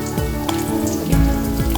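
Onions fry in a pan with salt and coconut during cooking of squid sukka, giving a close, steady sizzle with faint crackles and a few stirring clicks.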